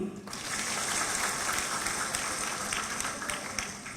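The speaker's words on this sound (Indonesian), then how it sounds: "Sekali lagi, tepuk tangan dulu." A graduation ceremony audience at an Indonesian university applauds in a dense, continuous wash of many hands, loud and even for several seconds before thinning out.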